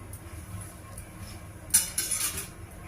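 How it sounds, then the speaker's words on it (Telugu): Mint leaves dry-roasting in a pan with no oil, heard as a few soft metallic clinks and scrapes of stirring against the pan, faint at first and then clustered near the end. "ముందర పుదీనా వేస్తున్నాను పుదీనా వేయించుకోవాలి"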